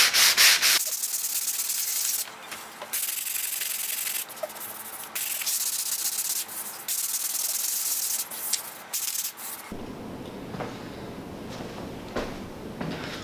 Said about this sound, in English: it's time to sand these off so we can start installing the other pieces